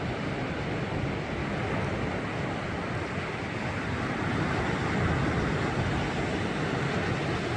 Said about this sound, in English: I certainly love the sound of those waves though.